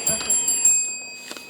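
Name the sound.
quiz show bell marking end of section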